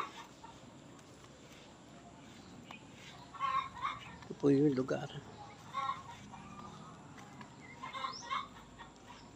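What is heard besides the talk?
chickens clucking near their coop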